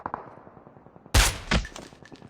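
Gunshots in Call of Duty Mobile battle royale: two sharp, loud reports about half a second apart, the first heavier, over a faint rhythmic game background.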